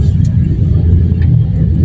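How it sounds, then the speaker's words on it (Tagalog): Cars in a bumper-to-bumper traffic jam give a deep, steady rumble, heard close and loud from inside a vehicle. "Yan mga kababayan, tignan nyo yung traffic."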